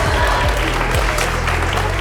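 A crowd applauds a fighter's first-round submission victory at a combat tournament, with loud, continuous clapping and cheering throughout.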